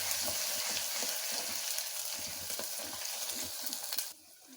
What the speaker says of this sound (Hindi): अब इसमें ये लहसुन अदरक का पेस्ट ऐड कर देंगे। इसको भी हल्की आंच पे 1 मिनट के लिए भूनेंगे।